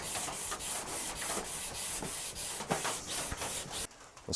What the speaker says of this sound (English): I got 180 on my hard 3M sanding block.